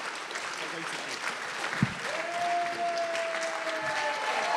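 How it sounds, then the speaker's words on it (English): Audience applause for Jeremy Corbyn at a political event, a steady wash of clapping with a faint rising tone and some crowd noise underneath. "Huge round of applause for Jeremy Corbyn."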